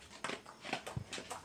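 A dog whimpers and whines in short bursts inside a video game, several soft rising cries spread across the moment, fairly close and moderate in level.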